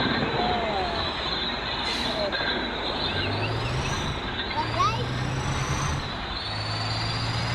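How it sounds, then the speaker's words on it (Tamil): A loud, steady rumble of a passing train in the video game Bus Simulator Indonesia, with squealing wheels and hissing, plus intermittent low horn-like tones. "ட்ரெயின் வந்துச்சு."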